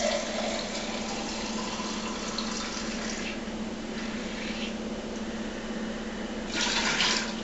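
Sugar wash for a homemade limeade wine cooler pours into a container, a steady continuous splashing rush of liquid that runs the whole time and swells louder near the end.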